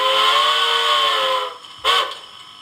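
A steam whistle from a SoundTraxx Blunami decoder in a Bachmann garden-scale Climax locomotive blows one long, loud, steady blast, then cuts off, followed by a brief clunk and quiet hiss.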